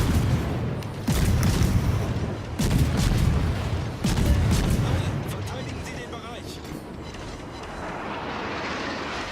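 The Richelieu battleship firing its guns in World of Warships: three heavy booming salvos roughly every one and a half seconds, followed by a rumbling tail, under someone commentating.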